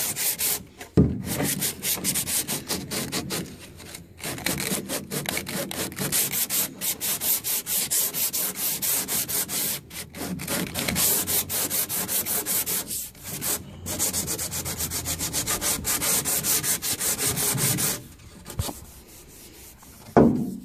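Steady, rasping sanding strokes on cured epoxy continue for about twenty seconds with a few brief pauses, close and loud, with no talking.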